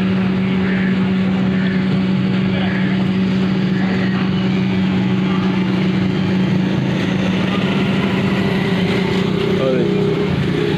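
A motorcycle engine runs with a loud, continuous, steady drone throughout, with voices blended into the noise.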